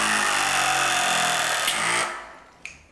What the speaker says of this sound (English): taking the mini crimp tool and pull the trigger